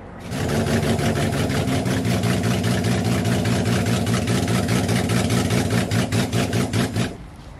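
A car with an RB engine starts up and settles into a loud, close, steady rumbling idle with a rapid regular pulse, then cuts off near the end.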